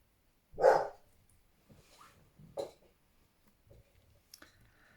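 A young dog barks a few times indoors, one clear bark followed by softer, scattered barks and yips, fairly distant and quiet.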